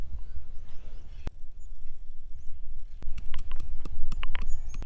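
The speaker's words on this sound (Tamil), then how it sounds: "இந்த மிளகு வந்து நல்லா நம்ம இப்போ இடிச்சுப்போம்." Black peppercorns crushed outdoors while seasoning a campfire mutton leg: sharp, irregular knocks and crunches, fairly close, over steady low background rumble, with no talking.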